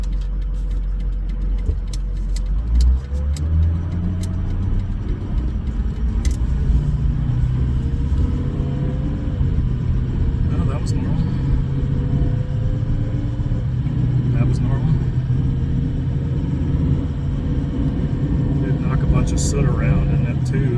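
Ford 6.0 Powerstroke diesel truck driving, a steady low engine rumble with rising and falling turbo tones throughout, close and continuous, with a few brief clicks over it.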